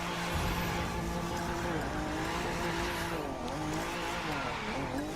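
Car drifting in The Crew 2, a continuous loud engine drone with wavering pitch and squealing tires as it slides through turns.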